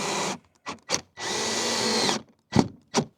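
A power drill drives screws to mount a replacement ladder on a toy hauler, in several short close bursts and one longer steady run, with brief pauses between.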